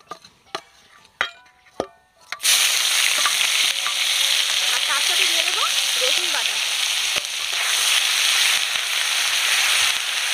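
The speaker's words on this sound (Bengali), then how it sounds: "ভালো করে পেঁয়াজ রসুন কষিয়ে নেব" Onion paste and garlic frying in oil with melted, caramelized sugar: after a few sharp taps, a loud steady sizzle bursts in and continues, with a spatula scraping and stirring through it.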